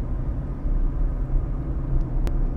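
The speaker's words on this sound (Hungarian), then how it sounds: "a navigáció, illetve a forgalom zaja beszűrődhet a monológomba" Traffic noise seeps into a moving car, a loud, steady low rumble of road and engine with no distinct events, apart from a faint brief click near the end.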